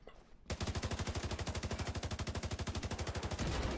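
Rapid automatic gunfire in The Division 2, a long unbroken burst of evenly spaced loud shots that starts abruptly after a brief quiet moment and runs steadily to the end.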